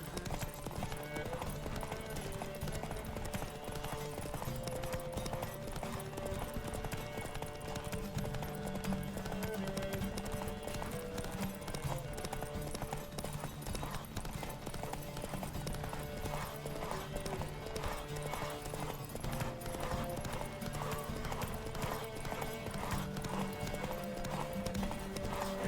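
A horse gallops in The Witcher 3 during a race, its rapid clip-clop hooves pounding steadily for the whole stretch over a constant bed of game music, fairly close and even in loudness.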